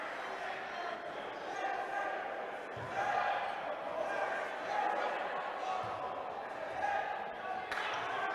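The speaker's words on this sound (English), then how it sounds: "The crowd is going crazy." Crowd and bench roaring at a high school varsity boys' basketball game as an underdog closes out an upset, a sustained loud din of cheering with ball bounces and gym noise throughout.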